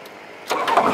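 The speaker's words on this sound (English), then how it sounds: "we're gonna fire the engine up, and this is how you start a Rotax 912" A Rotax 912 aircraft engine cranks and catches with a rising mechanical roar, close and fairly loud, with the choke on and the throttle closed.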